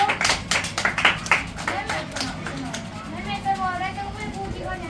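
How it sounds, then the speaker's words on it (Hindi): Children clap their hands in a classroom, a quick burst of short, uneven claps near the start that fades within a couple of seconds, followed by scattered voices and light background noise. "तालियां बजाओ।"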